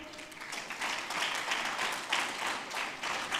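A crowd at an agribusiness investors gathering applauds again, a continuous swell of many clapping hands that surges in waves, steady and moderately distant with no speech over it.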